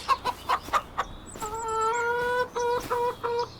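Chickens in the farming video game Farming Simulator 25: a run of short rhythmic clucks followed by a longer drawn-out squawking call with a few more clucks, close and clear with no talk.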